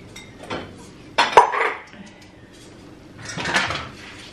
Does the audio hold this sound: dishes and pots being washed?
yes